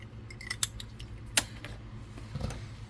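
Scissors snip knitting yarn short, two sharp close clicks about a second apart over quiet background handling noise.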